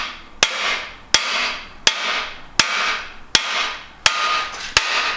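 A hammer whacking out a worn engine cam bearing, seven sharp metallic strikes at an even pace of roughly one every 0.7 seconds, each ringing briefly before the next, close and loud with no talking.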